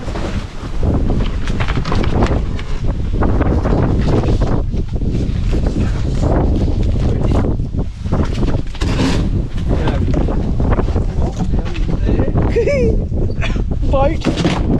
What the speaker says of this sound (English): It's a bit windy today if the audio's bad